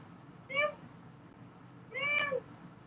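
Indoor cat giving two distinct meows about a second and a half apart, the second longer, fairly quiet against a faint room hum, no talking.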